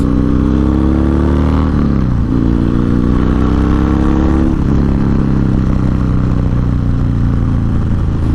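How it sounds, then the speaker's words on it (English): Loud, close Harley-Davidson Dyna Low Rider S 110 Twin Cam engine through a 2-into-1 exhaust, a deep throbbing rumble that rises in pitch through two gear pulls, continuous with no talking. "Really good sound coming out of that twin cam with the 2-into-1 exhaust"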